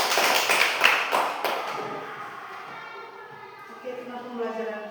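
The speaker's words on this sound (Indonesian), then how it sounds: "tepuk tangan dulu untuk kalian semua." A school class claps together in a brief burst of applause that fades after about a second and a half, leaving quieter room sound and a voice.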